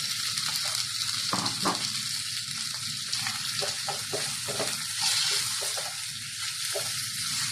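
Pork sizzles and fries steadily in hot cooking oil in a pan, a continuous close crackle with brief scraping stirs and no voices.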